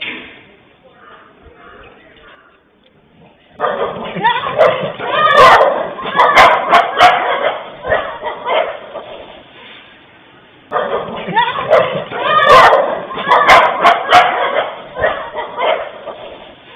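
A street dog barks in two bursts of yelps and woofs while chasing a boy outside a house, captured on a CCTV camera in Kumbakonam, with quieter stretches between the bursts.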